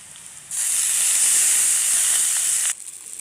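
A sudden loud hiss of water sizzling in a hot frying pan over fried onions starts abruptly, holds steady for about two seconds, then cuts off.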